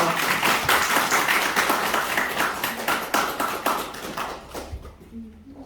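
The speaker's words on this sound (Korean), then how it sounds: "제가 호명을 하면 박수를 쳐주시면 감사하겠습니다" Guests at a remodeling committee launch ceremony clap for introduced dignitaries: a moderate burst of hand claps, brisk at first and then thinning out and fading, with a brief voice and a quiet pause near the end.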